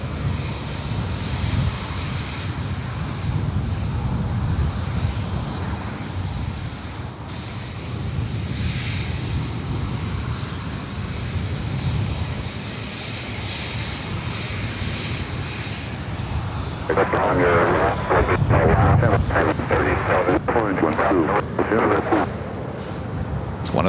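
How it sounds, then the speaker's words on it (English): A Qantas Airbus A380 arrives at Los Angeles International Airport, its engine roar a steady broad rumble heard from a distance. Talk continues throughout, and clicks and a brighter rush join near the end. "A380 Super. Qantas Flight 11 coming in from Sydney"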